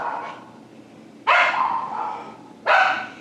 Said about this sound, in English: She can bark every once in a while, but she isn't barking all the time.